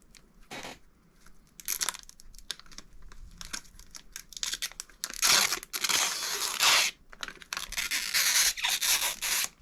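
Adhesive protective film being peeled off a VW/Audi/SEAT/Skoda car touchscreen, close and fairly quiet, with crinkly tearing and squeaky stretches that build into longer, louder peeling runs toward the end.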